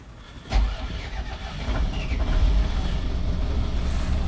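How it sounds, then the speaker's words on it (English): The port engine of a twin-engine Sealine S28 motor boat cranks with a sudden thud, then catches and settles into a loud, steady, low rumbling idle nearby. "So we'll start up first on the port engine."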